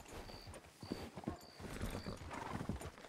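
Rapid hoofbeats of a galloping horse in Red Dead Redemption 2 thud in an uneven rhythm, with a whinny and a repeating faint electronic beep above.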